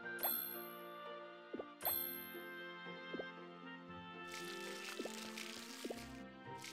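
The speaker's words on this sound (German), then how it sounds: "Das heißt, jetzt muss ich auch noch gießen." Crops being watered in the video game Harvest Moon, with quiet plopping and dripping game sound effects set against ringing chime-like tones and a brief hissing spray late on.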